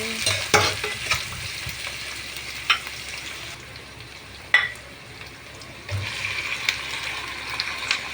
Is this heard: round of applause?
no